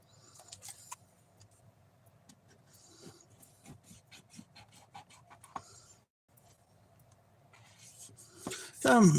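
A bone folder rubs firmly along the crease of a folded paper pop-up get-well card, producing a steady scraping, rasping stroke sequence up close, ending in a louder rustle of handled paper.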